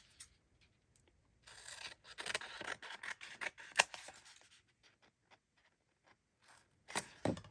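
Scissors snip through paper while a journal is trimmed from a kit of craft supplies, close and crisp, giving bursts of cutting and rustling strokes with short pauses in between.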